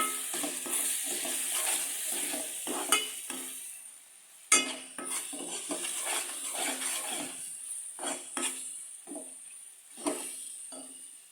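Fish is being mixed with chili powder in a cooking pan. A steady series of scraping, stirring strokes with light sizzling runs throughout, with a louder clatter partway through.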